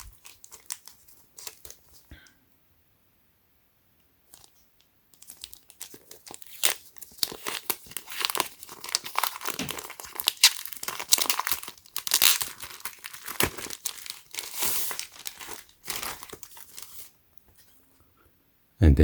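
Plastic packaging crinkles while a Lenovo IdeaPad Duet Chromebook keyboard is unboxed: close, irregular bursts of crinkling and tearing rustles with a quiet pause early on.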